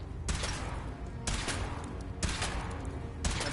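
A weapon fires in the Fallout game while a power-armor suit is being tested, with four loud, sharp bursts about a second apart, each decaying into a dense, roaring tail.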